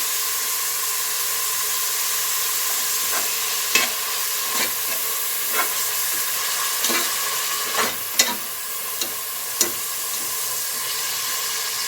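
Onions frying in oil in a home kitchen pot with a little turmeric, cooking for an Avarekalu mutton keema sambar; a steady close sizzle with occasional stirring clinks, no voices.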